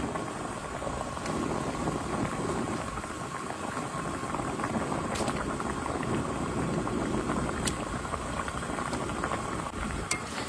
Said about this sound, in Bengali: ঝোল ফুটে গেছে বন্ধুরা এবার দিয়ে দেবো মাছ